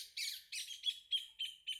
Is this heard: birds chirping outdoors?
yes